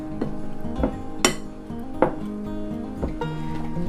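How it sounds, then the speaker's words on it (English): A metal pastry cutter works butter into flour in a bowl for an all-butter pie crust, giving repeated clinking and thudding strokes at an uneven rhythm, close and moderately loud. "what we're trying to do is cut this flour and butter together until there's just really large crumbles"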